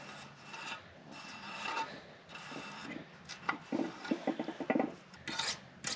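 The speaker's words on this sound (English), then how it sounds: "If you got any of this leftover silicone that's on this, we'll try to get that off of there" Leftover silicone is scraped off a Suzuki DR350 engine part with close, rasping strokes that start as steady rubbing and then turn into quicker, sharper scrapes.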